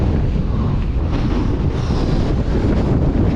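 Strong wind roars continuously across the microphone while riding an eBike through deep drifted snow and ice on a rough descent, a loud, steady buffeting rush with no talk.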